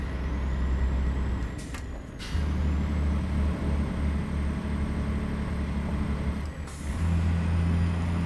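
Air brakes hiss in a couple of sharp releases from a DAF 95XF truck hauling 23 tons of roof tiles, heard inside the cab over a steady low engine drone, with no talking.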